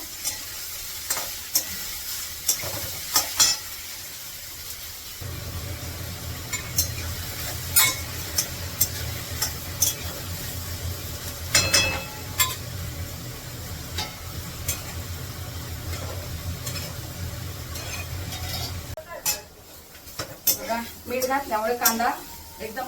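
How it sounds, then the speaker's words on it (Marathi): Chopped onion sautéing with a spoonful of salt in a pan sizzles steadily while a spoon stirs and scrapes with repeated clinks, and someone talks over the cooking. "इथे कांदा पटकन लाल होण्यासाठी एक चमचाभर मी मीठ घातलंय पिठावर बऱ्यापैकी परतून घ्यायचं आहे"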